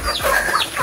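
A chicken clucks in short, close bursts, fairly loud, through most of a brief moment with no talking.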